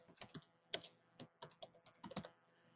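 Typing on a computer keyboard while entering text in Photoshop: irregular bursts of close, crisp key clicks in short clusters, with no talking.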